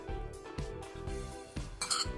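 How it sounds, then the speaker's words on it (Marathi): Repeated scraping and clinking of a utensil against a bowl, several short strokes in close succession as a cucumber koshimbir salad is mixed. "मी आता हे छान मी सगळं कालवून घेते"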